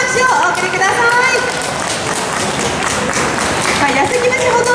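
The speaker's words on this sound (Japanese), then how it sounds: "どうぞ大きな拍手をお送りください" Loud, dense applause greets a Yasugi-bushi folk group from a preservation society at an outdoor stage event, sustained throughout while an announcer talks over it.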